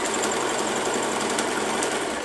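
Sewing machine stitching a quilting line through fabric layered on Soft and Stable foam stabilizer, a steady, continuous close-up mechanical whir with rapid even needle rhythm and no voices.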